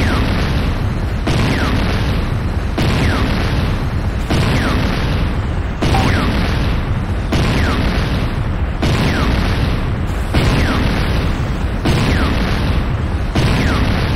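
Building explosions in the Renegade video game, as an enemy structure is destroyed: a loud, continuous series of heavy booms and bursts repeating at roughly one-and-a-half-second intervals, dense low rumble throughout.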